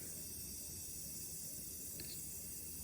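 Air leaks past the piston rings of a cold 1994 Suzuki GSXR 750 engine during a leak-down test. It is a faint, steady, continuous hiss under low background noise, with a small click near the end.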